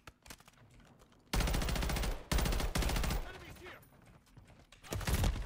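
Loud bursts of automatic gunfire in a shooting video game, three long sustained volleys in quick succession, then a quieter stretch and a final burst, with faint voices in the gaps.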